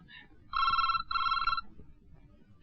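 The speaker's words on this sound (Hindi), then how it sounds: "इतनी रात का किसका फोन है?" An electronic telephone ring sounds in two long bursts with a brief gap between them, fairly loud over a quiet background.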